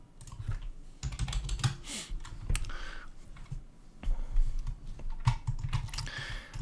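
Computer keyboard keys pressed during 3D modelling work, irregular bursts of close clicking taps and clacks, some in quick runs and others spaced apart, with no talking.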